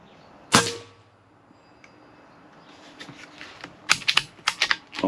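A Benjamin Marauder 5.5 mm PCP air rifle, fired without a suppressor, lets off a single sharp muffled crack near the start, followed later by a quick cluster of clicking mechanical sounds, all fairly quiet and close.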